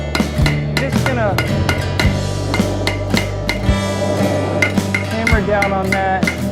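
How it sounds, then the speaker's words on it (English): A blacksmith hammers steel on the horn of an anvil while forging an oyster shucker, with loud, ringing metallic strikes at an irregular rhythm, each followed by a brief resonant tone. "hammer down on that, push it over a little bit"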